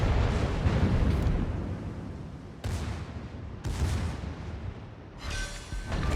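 Gneisenau battleship's secondary guns fire in World of Warships, rolling booms and heavy blasts layered in a continuous loud barrage, with sharp new volleys cutting in partway through.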